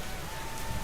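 Steady rain pours down around a street-side paratha cart, a dense, even hiss of drops on surfaces that holds constant throughout with no voices.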